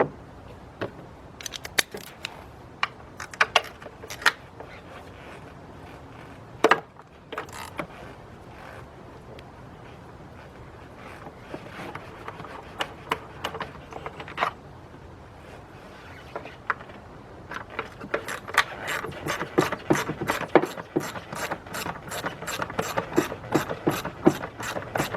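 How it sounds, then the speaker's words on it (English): Two bolts being worked off the engine of a 2002 GMC Envoy with a cylinder 3 misfire: close metallic clicks and ratcheting, sparse at first, then a fast, rapid run of ratchet clicks near the end. "Let's get those 2 bolts off."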